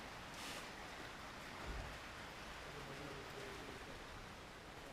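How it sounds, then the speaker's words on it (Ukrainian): Steady heavy rain pours outside during a long spell of bad weather, a faint, even hiss of falling water with no voices over it. "Вже другу неділю шурує дощара."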